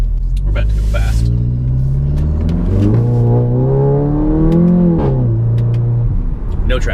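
A car launches hard with its tires spinning for lack of traction, the engine roaring and climbing in pitch close by, with people's voices mixed in over the rumble.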